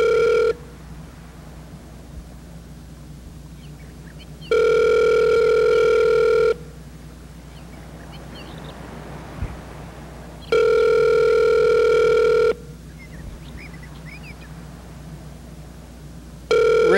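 Outgoing telephone call ringing back: steady two-second ring tones repeating in a regular pattern with long pauses between them over a faint background hum, heard alone without talk.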